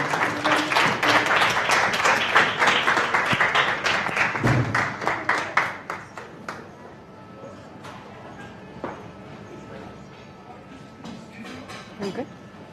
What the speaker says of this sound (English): Let's give her a round of applause as she comes up with her plan.